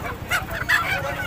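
A goose honks at a busy poultry market in Ashulia, Dhaka, with two or three short, harsh nasal calls rising over a steady crowd murmur.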